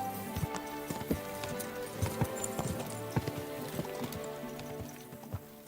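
Video game horse hooves clop in a quick, steady galloping rhythm in Kingdom Come: Deliverance, with faint background music and no talking.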